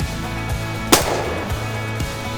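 A single sharp rifle shot at a shooting competition cracks out once, loud and abrupt, over a steady humming background with no talk.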